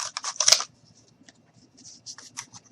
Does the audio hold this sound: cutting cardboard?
yes